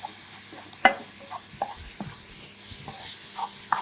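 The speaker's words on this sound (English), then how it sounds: "So you'll really hear a sizzle now." Food frying in a pan on high heat while being stirred and broken up, with soft sizzling and a few scattered scrapes and taps of a utensil, quiet and close, no speech.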